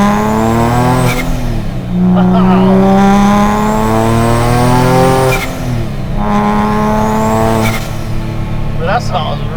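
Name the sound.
turbocharged Nissan NISMO engine with blow-off valve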